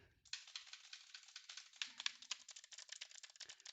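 Rapid, continuous typing on a brand-new Bloody B975 gaming keyboard, crisp clattering keystrokes close up and steady for several seconds with no talking.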